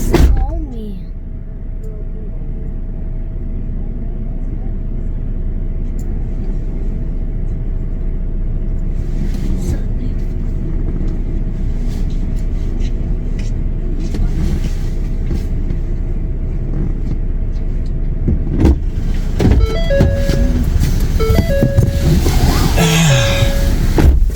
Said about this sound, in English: More cars coming.